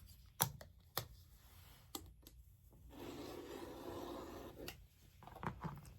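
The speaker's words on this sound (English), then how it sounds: "I cut off the salvage and try and get it as straight as I can" Rotary cutter or scissors slicing the selvage off a length of quilting fabric, a steady rasping cut lasting a couple of seconds between sharp taps and handling knocks, fairly quiet and close.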